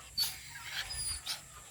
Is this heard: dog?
yes